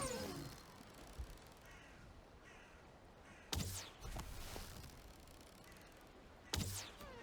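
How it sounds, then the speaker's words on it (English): Crows caw in Valheim, two loud harsh bursts standing out over a steady low ambient bed with faint other calls. "Bad enough we gotta listen to those frickin' crows"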